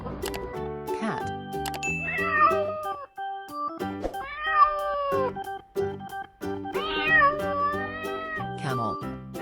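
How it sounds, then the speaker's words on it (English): A domestic cat meows repeatedly in a series of clear, rising-and-falling calls, close and fairly loud, with short pauses between them and no other sounds. "Cat."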